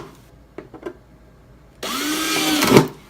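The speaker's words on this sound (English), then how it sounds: "I drill 2 holes on the bottom, here" Power drill boring holes through the bottom of a plastic jug, a sudden loud whirring burst that starts partway in and runs steadily to the end, rising briefly near its close, after a few faint taps and clicks.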